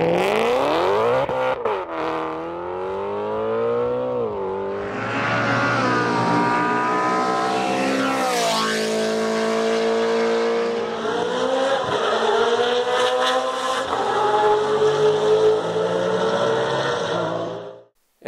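BMW M3 GTR race car with a flat-plane-crank V8, revving hard through gear changes with rising and falling engine pitch, loud and close throughout with no talk.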